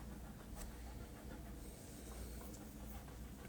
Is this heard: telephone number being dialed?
no